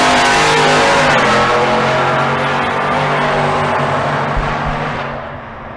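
A Chevrolet Silverado and a Ford F-150 drag racing at Bandimere, their engines roaring loud and close at full throttle, the sound easing away toward the end.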